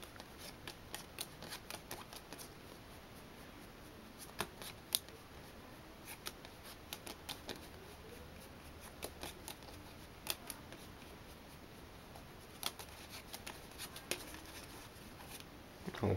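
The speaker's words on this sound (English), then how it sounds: "I shuffled the cards and there are no order at all" A deck of playing cards is shuffled during a magic trick, giving repeated quiet riffles and crisp card snaps scattered across a long, soft stretch.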